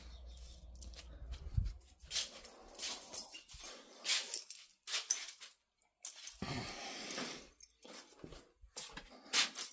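Several dogs at home bark and whimper in irregular bursts, some close and sharp, others softer whines, with brief quiet gaps between outbursts.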